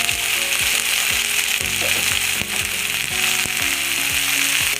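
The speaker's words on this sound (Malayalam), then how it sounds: "നന്നായിട്ടൊന്ന് ഇളക്കി കൊടുക്കാം" Breadfruit fry with small onions, curry leaves and pepper powder stirred in a pan: loud continuous sizzle with a regular series of scraping, ratcheting spatula strokes throughout, close and without voices.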